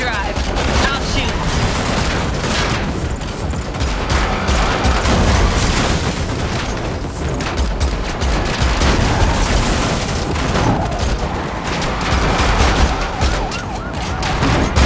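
Gunfire rings out during a car chase in The Matrix Awakens on PS5: dense, loud bursts of shots over roaring engines and sirens, continuous throughout with some voices mixed in.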